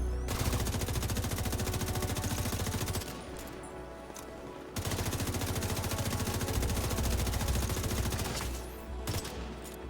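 Rapid automatic gunfire from The Division 2 bursts in long sustained volleys, pauses briefly, then resumes loud and continuous.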